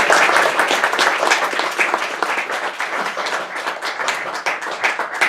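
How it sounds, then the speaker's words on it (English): Steady applause from a conference audience for a guest speaker, dense clapping at an even level throughout with no talk over it. "give him a big round of applause"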